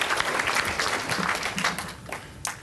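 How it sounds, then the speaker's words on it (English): An audience at a community conference applauds in a full, moderately loud wash of clapping that thins out toward the end, with a few scattered claps. "that's worth some applause"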